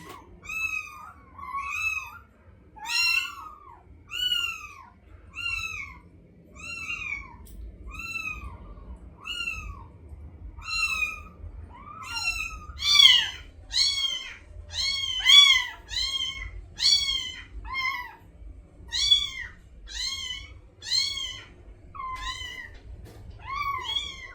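Several rescued kittens meow over and over, their high, close cries coming in quick bursts that overlap at times, with a faint background hum and almost no talking.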